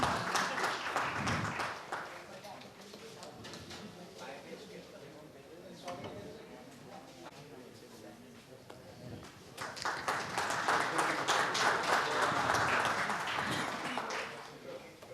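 Audience at a two-day tax conclave claps for sponsors, bursts of applause at the start and a longer swell near the end, with a host speaking over and between them.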